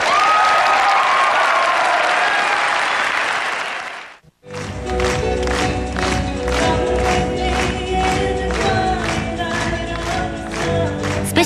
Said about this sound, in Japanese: 拍手喝采を浴びた。